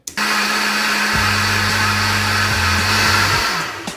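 A countertop blender whirring through food for athletes' meals, a loud steady motor drone that shifts pitch partway as the load changes, then winds down.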